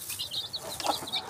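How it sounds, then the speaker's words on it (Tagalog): A native chicken, a protective mother hen with chicks on a farm, gives soft, quick clucks at close range, short scattered calls over quiet background with no talk. "yung manok na to"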